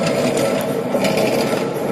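Metal shaper machine planing a round steel rod down toward a square, a steady continuous rasping scrape of the cutting tool under mechanical running noise, close and fairly loud throughout.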